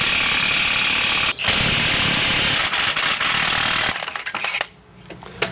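An impact wrench with an impact socket loosens suspension spring bolts on a Squarebody Suburban, a loud, close, continuous rattling hammer burst with a brief break, then sputtering to a stop.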